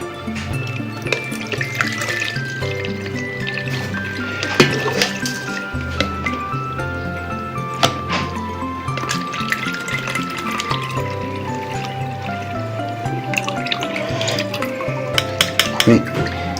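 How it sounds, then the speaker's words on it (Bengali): Homemade rose water is poured and strained through a strainer, making a steady close trickle with splashes and drips that continue without a break. "আমি একবারের মতো কিছু ছেঁকে নিচ্ছি।"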